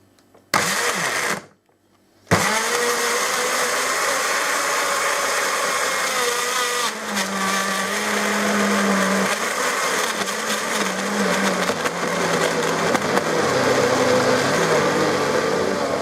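A blender whirs loudly and steadily, pureeing a soup of chopped burdock and thistle roots, with a short stop and restart near the beginning before the motor drones on without a break.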